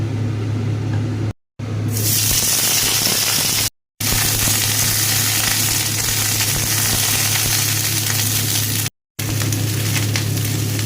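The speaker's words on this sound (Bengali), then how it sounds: "আবারও কড়াতে অল্প তেল দিয়ে ফুলকপিটাকে" Cauliflower frying in a little oil in a wok, giving a steady, loud broadband sizzle that runs throughout with a constant low hum beneath and a few brief dropouts.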